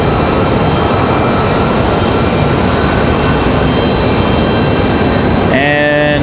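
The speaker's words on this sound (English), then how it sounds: "There's our A220-300 from Boston." Airbus A220-300 airliner from Boston at Raleigh-Durham airport, a loud steady broadband jet roar that holds throughout before rising whining engine tones appear near the end.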